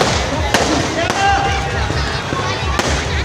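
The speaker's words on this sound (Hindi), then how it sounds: "वो पूरा आकाश में फटाका फोड़त रही से पूरा आतिशबाजी होती रही से" Dense crackling fireworks and firecrackers bursting overhead during a Ram Navami procession in Baloda Bazar, a continuous loud barrage of sharp pops with voices in the crowd beneath.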